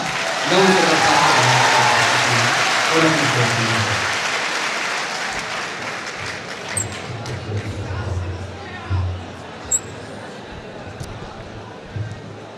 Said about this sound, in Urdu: آئیے استقبال کریں تالیوں سے جناب ڈاکٹر نواز دیوبندی کا